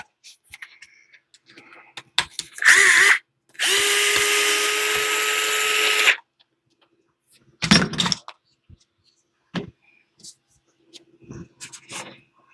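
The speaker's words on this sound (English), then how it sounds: "So I use the air compressor all over it." Air compressor nozzle blasting bursts of air to clean an RC car during a plastic swap: a short hiss, then a long loud steady blast of about two seconds, followed by a few brief sputters and clicks.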